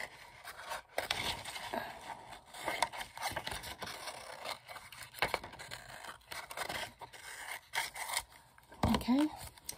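Scissors cut through decorative paper for a stacked envelope folio in a series of close, crisp snips and scrapes, mixed with rustling handling while a person talks.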